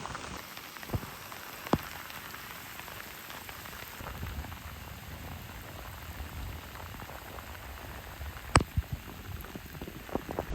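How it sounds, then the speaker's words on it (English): Heavy rain pours steadily onto surfaces outdoors in a downpour of about half an inch in ten minutes, a dense continuous hiss with a few louder drips and splats standing out. "We got about a ½ inch of rain so far."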